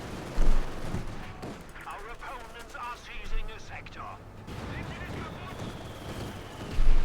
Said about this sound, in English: Anti-tank grenade goes off